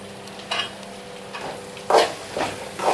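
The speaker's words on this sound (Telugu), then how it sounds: "ఇప్పుడు నేను ఇందులోకి క్యారెట్ యాడ్ చేస్తున్నా" Carrots stirred into a hot pan with ginger-garlic paste, a quiet background sizzle broken by a few scraping stir strokes, louder toward the end.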